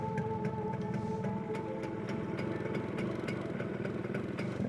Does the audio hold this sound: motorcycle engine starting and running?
yes